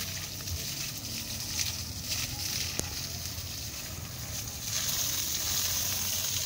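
Irrigation water pours steadily onto a bitter gourd (ampalaya) crop on a farm, a continuous broadband hiss and rush that holds even throughout and swells slightly louder toward the end.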